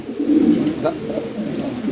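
A pigeon for sale gives a soft, close coo, a low warbling call that rises briefly once over quiet background noise.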